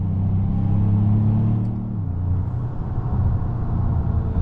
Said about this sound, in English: pop it into the Lobo mode just for a second to get a quick acceleration so you guys can see how aggressive this is in Lobo mode